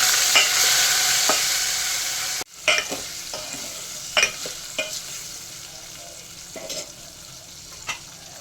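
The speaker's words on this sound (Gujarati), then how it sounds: "લસણ થોડું ચડવા દઈશું જેથી કરી કાચું ના રહે કેરીના ટુકડા એડ કરીશું" Garlic and raw mango pieces sizzle steadily in a pan, with a brief cut in the sound and then a series of sharp scraping stirs and clinks rising over the hiss.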